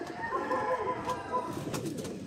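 Racing pigeons coo inside their loft, with soft, close, low throaty calls repeating and overlapping along with faint rustling.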